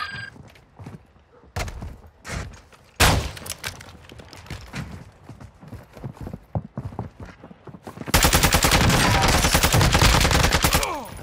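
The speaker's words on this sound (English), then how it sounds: "You are taking effective fire." Gunfire in the video game Call of Duty DMZ, scattered loud shots early on, then a sustained rapid automatic burst toward the end, close and intense.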